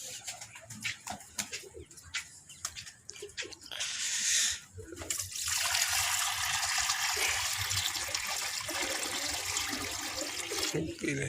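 Water is poured out for rooftop pigeons as a loud, steady splashing rush that follows a stretch of scattered clatter and movement and keeps going to the end, close by.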